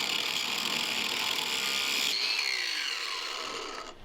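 An angle grinder cuts through metal on a trailer being stripped down for a DIY camper, giving a loud, steady, high whine with a rough edge that fades and trails off near the end.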